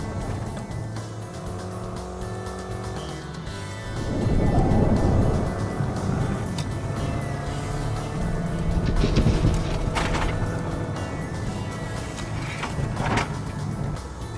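An SUV's engine revs hard and holds high RPM while being driven fast, with a surge and sustained roar from about four seconds and a brief dip under braking, the engine note loud and close throughout.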